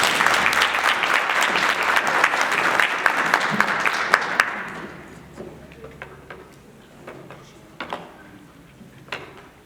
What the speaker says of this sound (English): I believe that deserves a better round of applause.